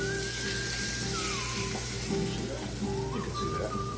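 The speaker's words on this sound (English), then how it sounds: "just a soft sear" Pork sears gently in a frying pan with a steady, close sizzle and crackle throughout, joined by faint stirring or shifting sounds and a thin tonal whine.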